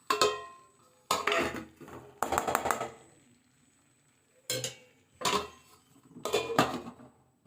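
A metal lid clanks onto a cooking pot of carrot and beetroot stir-fry in a series of about six sharp clattering knocks in separate bursts, with quiet pauses between them.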